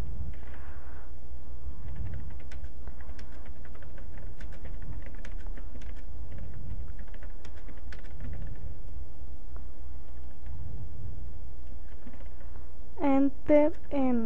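Steady typing on a computer keyboard while a text file is written, many light clicks running continuously for several seconds, with a brief tonal beep-like sound near the end.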